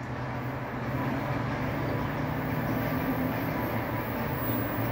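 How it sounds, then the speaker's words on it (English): A Baltimore Metro subway train pulls into Reisterstown Plaza station with a steady, loud, low rumble that holds evenly throughout, and no voices are heard. "Here comes the train."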